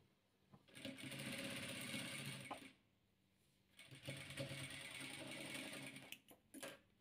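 A sewing machine stitches quilt patches in two long bursts of fast, even mechanical whirring with a short pause between them, close and clear, followed by brief clicks.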